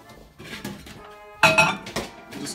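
Dishes clink and clatter nearby as a dish is placed into a microwave, with a sharp ceramic knock in the middle followed by a few softer bumps as it is set down.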